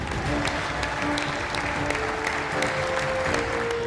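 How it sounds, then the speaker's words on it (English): Members of Congress break into dense, continuous applause and cheering that fills the room at an even, loud level. "The Congress burst into cheers and applause as US President Joe Biden handed over the co"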